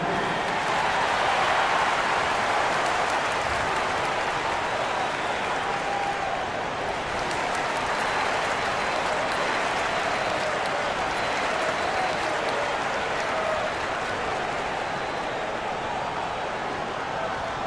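A large basketball game crowd cheers and applauds loudly and continuously, a dense roar of clapping and shouting that swells and holds for the whole stretch.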